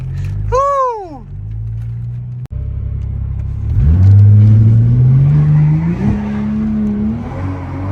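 An engine on the street revs and accelerates hard in a loud, close pull with a rising roar, while a brief whistling chirp is heard near the start.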